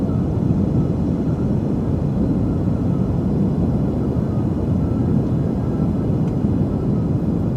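A Just Flight PA-28R Arrow comes in to land in Microsoft Flight Simulator 2020 with a loud, steady, low engine and wind drone that holds unbroken throughout, and no talk.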